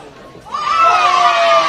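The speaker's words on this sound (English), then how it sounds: "Crowd's appreciating a niggle between two players and a hug afterwards" Crowd at a reserves grade rugby grand final between Brighton and Barossa swells into loud cheering and shouting, rising suddenly and holding through the rest, with a commentator's voice over it.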